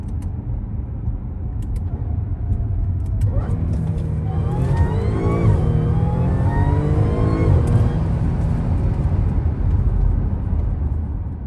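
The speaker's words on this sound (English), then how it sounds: "About to do an acceleration, just a couple downshifts before." A modified Audi S4 B8 Prestige engine pulls hard after a couple of downshifts, its loud, near note climbing in pitch across several seconds before levelling off.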